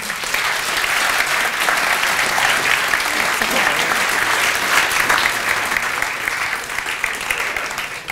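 An audience applauds people at a gathering about diet types, dense and continuous clapping that stays loud and steady from start to finish.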